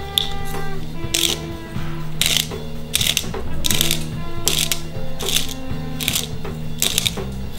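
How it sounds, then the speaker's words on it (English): A hand pepper grinder cracks fresh pepper over a herby lemon potato salad, giving seven rapid ratcheting bursts at a steady rhythm, close and fairly loud, with no talking. "Freshly cracked pepper."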